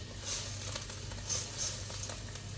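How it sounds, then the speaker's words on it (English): Mushrooms sizzling in a pan, a steady close crackling hiss with small pops and no talking. "Here you can hear the mushrooms sizzling."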